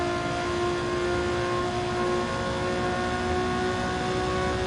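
A Hyundai Elantra race car accelerates away in a racing game, its engine a steady, loud droning whine with sustained tonal harmonics and no talk over it.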